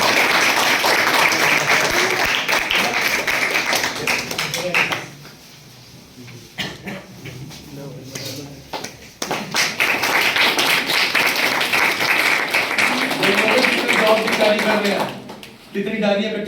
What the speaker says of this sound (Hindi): कोई तालियां शालियां भी होती है।